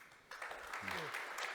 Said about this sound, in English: please give a round of applause to this panel